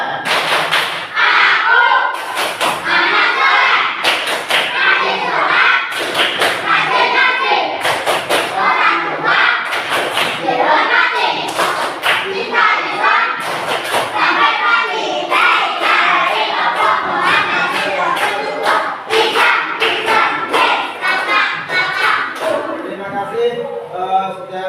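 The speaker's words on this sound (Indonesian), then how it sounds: "Kita tepuk-tepuk, yaitu tepuk anak soleh." Children at a school Islamic religious education class perform the tepuk anak soleh clapping chant, with rhythmic bursts of group claps and thumps alternating with chanted voices, loud and close, repeating throughout.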